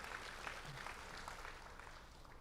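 A church congregation applauds together, a steady wash of clapping at moderate distance that holds evenly throughout.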